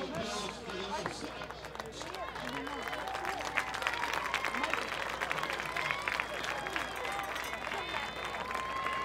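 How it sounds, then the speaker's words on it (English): Outdoor crowd applause at a school athletic field dedication ceremony, steady clapping mixed with babble and cheering voices throughout, fairly distant and diffuse. "let's have a nice round of applause for the website"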